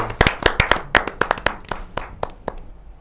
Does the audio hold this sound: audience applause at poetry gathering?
yes